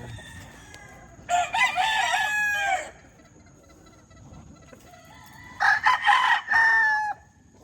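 A rooster on a farm crows twice in full, loud cock-a-doodle-doo calls a few seconds apart, with quieter chicken clucks and low ambient noise between them.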